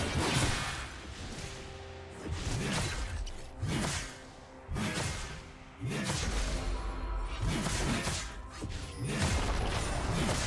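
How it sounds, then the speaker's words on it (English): Turret being destroyed in a League of Legends match, a busy run of crashing, whooshing and thudding impacts that repeat in rapid heavy bursts for about ten seconds, loud and close. "Red team's turret has been destroyed."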